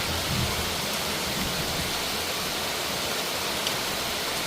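Heavy storm rain pours down in a dense, steady roar with no pauses, loud and close, with no voices.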